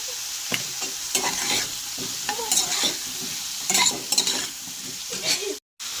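Turmeric and salt being stirred into a sizzling crab, potato and pumpkin curry, with continuous close scraping, frying hiss and light utensil clinks, cutting out briefly near the end.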